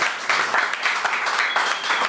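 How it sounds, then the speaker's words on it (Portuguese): Studio audience on a Portuguese game show applauds a guest, with loud, steady clapping from many hands and a few sharper bursts throughout. "Palmas para o nosso convidado."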